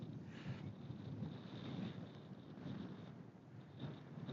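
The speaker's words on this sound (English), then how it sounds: "We're hoping to get a little bit of respite from the wind." Wind gusts across an open hillside at High Cup Nick in Cumbria as a low, buffeting rumble that swells and eases in uneven pulses against the microphone, with no one speaking.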